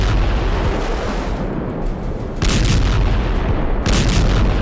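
A JDAM guided bomb explosion during the Israel–Gaza conflict rolls as a loud, continuous rumbling roar with heavy low booms swelling twice, and no voices.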